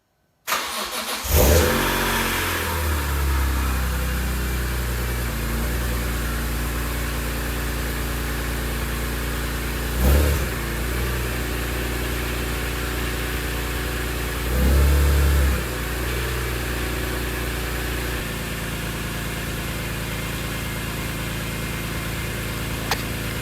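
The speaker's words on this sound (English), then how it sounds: "Time to start the car." A BMW E46 M3 engine fitted with Supersprint headers cranks and catches, then settles into a steady idle, with two sharp revs partway through before it drops back to idling.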